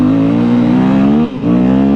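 A dirt bike engine on a track in Pakistan revs loud and close in a steady high drone, dipping briefly near the end before climbing back to full throttle.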